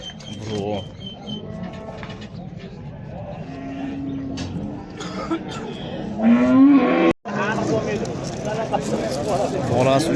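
Cattle moo at a busy livestock market, several drawn-out lowing calls close by while people talk and call out around them.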